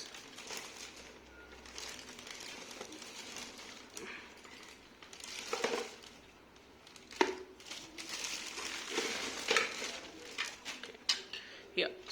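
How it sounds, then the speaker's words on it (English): Plastic packaging around a compact Agaro Regal portable vacuum cleaner being unwrapped, with soft crinkling and rustling that rises in irregular bursts throughout, under occasional quiet talk. "Okay, so let's unwrap this."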